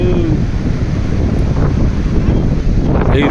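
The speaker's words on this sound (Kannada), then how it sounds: "ಏನು ಗಾಳಿ ಬರು." Strong wind sweeps across Cabo de Rama beach in Goa, buffeting the microphone with loud, continuous roaring gusts while surf rumbles underneath.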